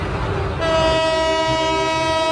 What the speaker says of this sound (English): the Mombasa-Nairobi railway in Kenya